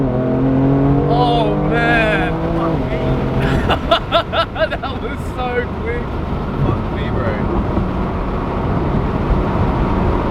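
A BMW M2 Competition car pulls hard at speed, its engine climbing in pitch through a gear change before settling into a loud, rushing drone of wind and road noise, while someone talks over it.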